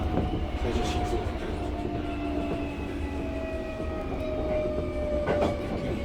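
Interior running sound of a Tokyo Metro 13000 series train, a continuous loud rumble with rhythmic rail clatter and faint whining tones, steady throughout with no talking.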